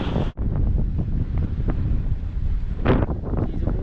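Strong wind on Lizard Island, Australia, roars and buffets the microphone in a constant low rumble, with gusts surging now and then and a faint wash of waves beneath.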